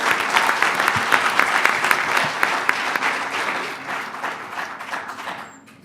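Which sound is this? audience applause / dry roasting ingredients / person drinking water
audience applause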